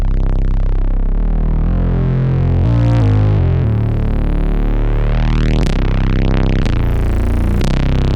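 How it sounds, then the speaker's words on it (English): A synth tone drenched in heavy wave-shaped distortion and squashed multiband compression, sweeping and morphing continuously at a steady loud level. "it also has a distortion after that, which is based on wave shaping"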